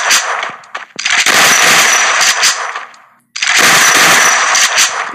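Rapid gunfire from a shotgun in the mobile battle game Free Fire: dense, loud, sustained bursts of shots that stop briefly, then resume just as loud.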